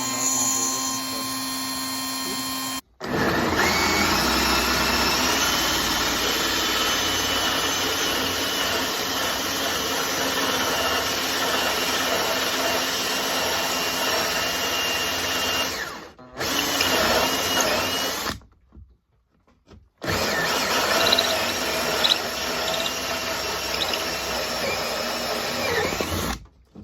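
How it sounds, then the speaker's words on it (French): A new wood router cuts at a set depth with a loud, steady, high-pitched motor whine. It runs continuously, stops briefly, then starts up again. "On va avec le nouveau jouet, le routeur."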